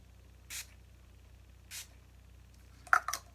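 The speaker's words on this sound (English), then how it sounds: "Actually, before I do my eyes, I'm gonna spray, because it says prep," Wet n Wild makeup setting spray is pumped in two short, airy bursts close by, followed by a few quicker sprays and clicks near the end, with no talk.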